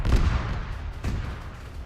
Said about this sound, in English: That sounds like an auto cannon.